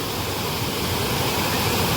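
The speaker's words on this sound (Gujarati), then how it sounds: "તો જુઓ કેવું સરસ મજાનું પાણી જાય છે" Rainwater pours over the edge of an overflowing pond after heavy rain, making a loud, constant rushing roar up close with no pauses.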